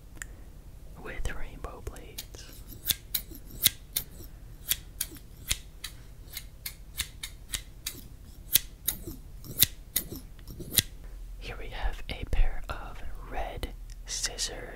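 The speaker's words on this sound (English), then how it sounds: "Scissors with rainbow blades." Close-up scissors snipping in a steady series of sharp, crisp cuts, with soft whispering underneath and near the end.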